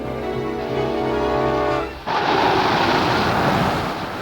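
Strong wind blowing over the sea around a boat deck; a tonal musical passage gives way midway to a loud, steady roar of rushing wind and surf.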